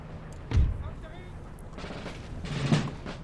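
Gunfire and cannon booms from the video game Empire: Total War, with a heavy thump followed by scattered volleys and rumbling shots at mid distance, and a voice talking faintly underneath.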